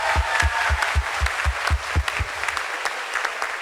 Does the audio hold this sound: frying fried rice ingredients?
no